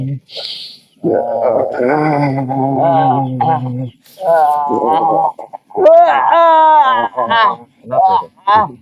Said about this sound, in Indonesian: Seperti ini ayam hitam.